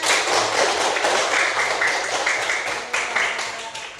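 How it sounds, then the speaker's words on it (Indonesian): A group claps together briefly in applause, a dense, fairly quiet patter that fades slightly toward the end, with a voice faintly under it. "Bagus sekali, tepuk tangan."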